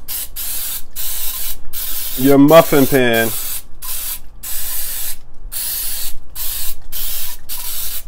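Repeated bursts of baking spray with flour in it hiss into a muffin pan, quick spritzes in a steady rhythm, loud and close, while a voice briefly talks over them partway through.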